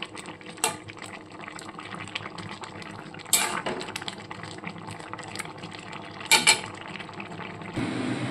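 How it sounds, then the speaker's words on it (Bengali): Boiled taro greens (kochu shak) tipped into a colander, water splashing and draining with metallic clinks from the pot against a steady wet kitchen background, two brief louder pours near the end. "কচু শাকটা জলটা ঝরিয়ে নিচ্ছি, একটা ঝাঁঝরিতে ঢেলে দিয়েছি।"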